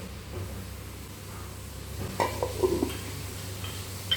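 Crab in masala cooks in a pan with a soft continuous sizzle and hiss, and a few stirring scrapes and clinks stand out midway and near the end.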